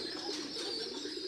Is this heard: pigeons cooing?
yes